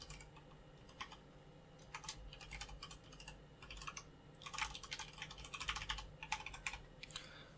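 Minecraft account credentials are typed on a computer keyboard, a quiet, close run of irregular key clicks in short bursts that grow busier toward the end.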